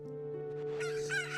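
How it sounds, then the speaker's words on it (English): A rooster crows in The Legend of Zelda: Ocarina of Time, a drawn-out cock-a-doodle-doo rising into clucking squawks, loud and close with no voices over it. "I just give the chicken to Zelda."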